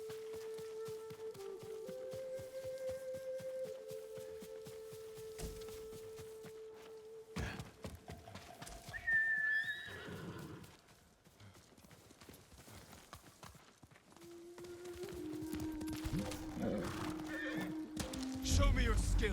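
A horse whinnies and its hooves clip-clop during a battle ride in the Ghost of Tsushima video game, the neigh sharp and fairly close, with footsteps and thuds mixed among game sounds and someone talking.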